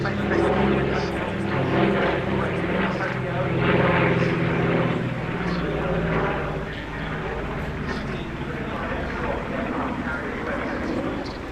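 A B-25J Mitchell bomber flies at the Duxford D-Day airshow, its radial engines giving a loud, steady droning roar that swells and fades slightly, with a commentator talking over it.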